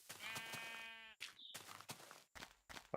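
A sheep bleats in Minecraft, one long wavering call near and clear, followed by a few shorter clicks and game sounds with gaps of near silence.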